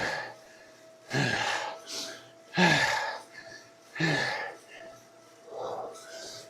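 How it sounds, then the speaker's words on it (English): A cyclist's hard, labored breathing while pedaling uphill: loud breaths come in regular bursts about every one and a half seconds, close to the mic, over a faint steady hum. "Hard breathing ensues."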